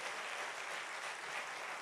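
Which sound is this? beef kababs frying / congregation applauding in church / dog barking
congregation applauding in church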